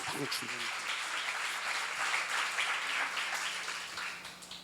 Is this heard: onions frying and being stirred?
no